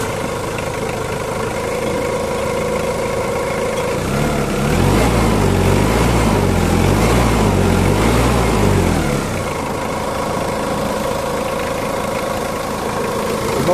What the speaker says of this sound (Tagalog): pa-start mo yung makina. Para ma-check ko kung saan pa yung ibang ingay dito sa makina.